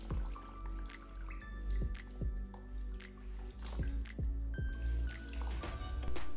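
Water drains and drips off freshly washed food left to dry, with scattered single drops and small splashes landing irregularly over a quiet trickle, close and soft.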